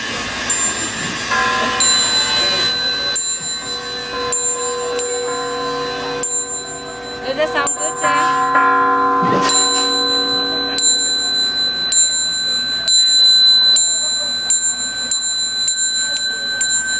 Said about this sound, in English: all these monks and nuns around inviting all the bells